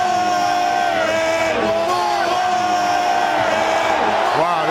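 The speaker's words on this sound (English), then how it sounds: "Wow, they're cheering." A large crowd in a football stadium, Veterans Stadium, roars and cheers loudly and without a break, a dense mass of yells and whoops heard from within the stands.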